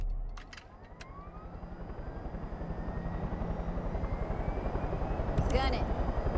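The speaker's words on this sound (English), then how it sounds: "should we just take this helicopter?" A helicopter in the video game Far Cry 5 runs with a steady, throbbing rotor chop and engine whine that grows a little louder, with some voices alongside.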